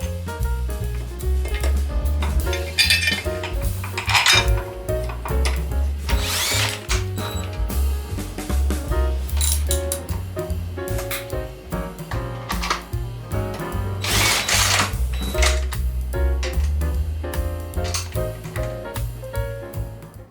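A power tool drives supplied bolts into the base of motorcycle crash bars, sounding as a steady whirring drill with repeated ratcheting bursts, close and loud for about twenty seconds, with no talk.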